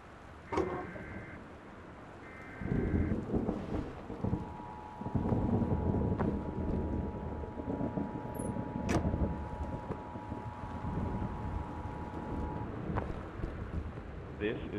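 A thunderstorm with torrential rain and high winds in the video game Gone Home rushes on as a dense, steady roar with gusting swells and a low rumble, while a voice speaks over it and a faint tone hums.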